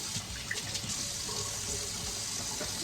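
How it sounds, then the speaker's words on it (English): A non-stick pan is rinsed under a running tap, with a steady rush of water splashing into the pan and sink and small clinks as it is handled, close and moderately loud. "And now I'm just rinsing it to see kind of how it cleans."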